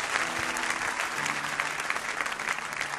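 A church congregation at a prayer service breaks into sustained, dense applause filling the room, loud and continuous throughout with little variation.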